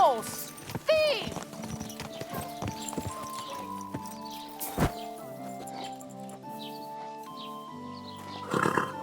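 Horse hooves clip-clop on the ground in Kingdom Come: Deliverance 2, a few irregular hoofbeats mixed with a whinny, shouting voices and game music, moderately quiet overall.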